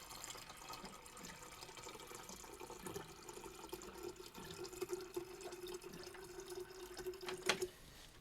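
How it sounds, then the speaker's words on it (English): An office water cooler dispenses water in a faint, steady trickle that holds a thin, even tone for several seconds before stopping, with soft room noise around it. "Water cooler's so slow."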